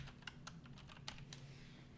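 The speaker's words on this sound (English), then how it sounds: "I'm gonna type" Quiet typing on a computer keyboard, a handful of light, irregular key clicks over a low steady hum, soft and close.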